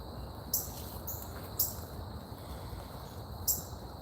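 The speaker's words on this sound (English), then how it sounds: "I hear a cardinal chirping." Three short, sharp cardinal chirps ring out at uneven intervals over a constant rushing background of a rain-swollen stream.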